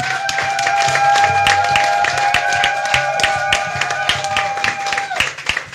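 Church congregation clapping together in steady rhythmic beats at a lively worship service, with a sustained organ or keyboard chord ringing underneath that cuts off near the end.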